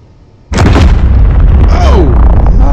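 Big battleship gun turret firing in a sci-fi space game: silence broken by a sudden loud blast that rolls into a sustained roaring rumble with whining tones, very close and dominant.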